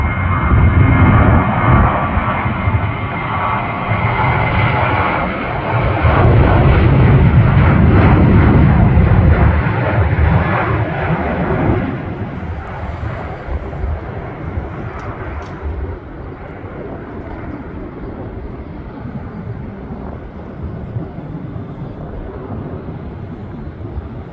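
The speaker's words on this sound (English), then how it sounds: "2287 on a takeoff roll. 737-900." A Boeing 737-900 airliner of Delta on its takeoff roll at Milwaukee, a loud broadband jet roar that swells over the first twelve seconds, then recedes to a steadier, fainter rumble as it moves away.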